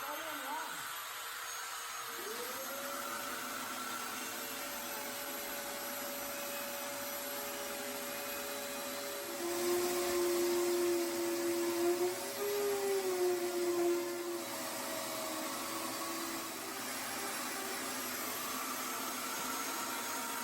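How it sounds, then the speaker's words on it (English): Vacuum cleaner running steadily nearby during window insulation work with spray foam, a constant whine that holds for the whole stretch, with a brief louder tone change midway and a voice talking faintly under it. "if you're in a finished house, you're gonna need a vacuum"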